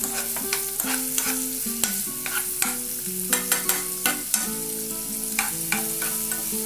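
Onions fry for Maggi noodles with a soft, continuous sizzle and a few light stirring clicks, under music playing throughout.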